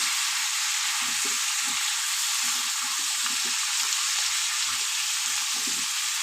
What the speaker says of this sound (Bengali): দিয়ে দেবো এক চামচ হলুদ গুঁড়ো এবার একটু আমি হালকা ভেজে নেব